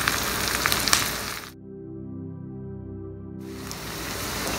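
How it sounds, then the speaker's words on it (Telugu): Onions frying in a pan with salt, a steady close hiss of sizzling that drops away briefly in the middle and then returns. "ఫ్రై అయిపోయాయి కదా ఆనియన్స్"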